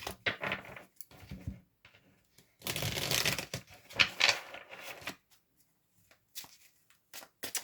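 A deck of tarot cards is given a quick shuffle in soft, papery bursts: short riffles, then a longer rustling stretch, then a few scattered flicks, all close and quiet.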